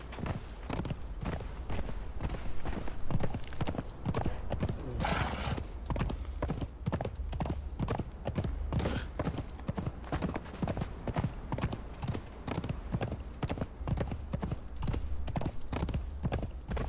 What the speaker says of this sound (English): it's just a short little gallop over to Sinner's Refuge